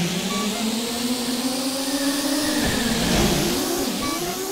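A pickup truck's engine roars in a racing video game, a loud, continuous mid-pitched drone that climbs and dips steadily as it revs.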